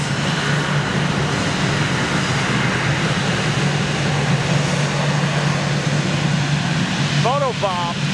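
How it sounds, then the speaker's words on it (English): A passing airliner powered by Rolls-Royce Trent 1000 engines at London Gatwick gives a steady broad jet roar with a low hum throughout, and voices are heard alongside it. "Rolls-Royce, Trent 1000s"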